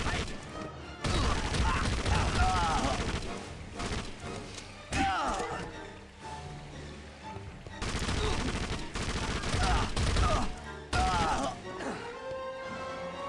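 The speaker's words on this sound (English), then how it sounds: "time for some open gunfire" Repeated bursts of gunfire in the video game Indiana Jones and the Emperor's Tomb, Istanbul level, crackle in loud clusters with short pauses between, layered with game effects and some voice activity.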